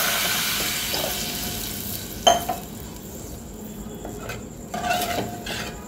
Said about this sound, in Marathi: आपण पहिले गॅस मोठा करायचा आहे आणि पाणी सोडून द्यायचं आहे